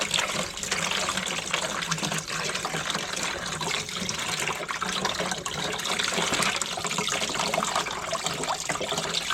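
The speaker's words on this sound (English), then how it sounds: "I get some water in this bucket to use?" Water runs steadily into a bucket during a water heater repair with a stuck relief valve and sediment buildup, a continuous close rushing splash with no one speaking.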